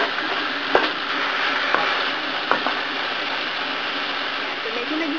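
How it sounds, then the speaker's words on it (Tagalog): Chicken sautés with curry powder in a pan, a continuous close sizzle and fry with a few sharp clicks of a spoon or spatula against the pan. "Patigigisa lang natin siya dito hanggang medyo maluto-luto ng konti yung ating chicken."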